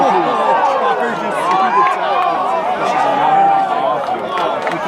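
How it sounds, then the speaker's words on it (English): Rugby crowd at a men's BC Premiership quarterfinal between Westshore and UVic roars in a sustained, dense swell of cheering and shouting, loud and continuous throughout. "You can hear the crowd erupting."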